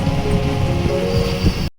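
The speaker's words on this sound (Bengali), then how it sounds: "আমার কোনো ক্লুই ছিল না যে বাইরে একদম এই রকম বৃষ্টি হচ্ছে" Heavy rain falls outside in a steady, loud wash with a low rumbling undertone, heard from indoors, then the sound cuts off abruptly.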